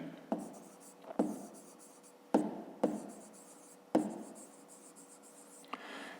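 A pen writes numbers by hand on paper during a 5th-grade maths exercise, giving short scratchy strokes in several separate bursts with pauses between them, close and quiet.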